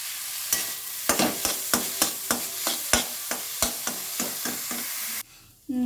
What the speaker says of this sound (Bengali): ঘিয়েতে ভালোভাবে আলুটা একটু ভেজে নেব